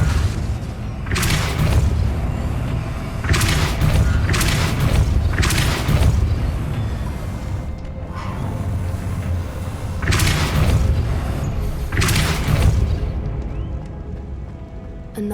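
Deep booming blasts of the Depulso spell repeat every couple of seconds in Hogwarts Legacy, loud and heavy over a rumbling background.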